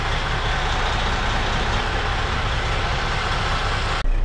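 A truck engine in first gear pulls against the parking brake during a CDL Class A pre-trip inspection, making a steady, loud, rumbling drone that cuts off abruptly near the end.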